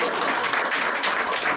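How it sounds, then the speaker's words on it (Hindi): A short, full burst of audience applause for Yakub at a Resurrection quiz gathering, many hands clapping together in a brief, even wash of sound. "याकूब के लिए जरा जोरदार तालियां।"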